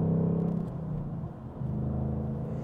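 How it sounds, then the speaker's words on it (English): A manual-transmission car downshifting into third gear with a rev-matching blip, heard as a steady low engine rumble that dips briefly and then rises to a new, steadier drone. "I'm going to downshift to third."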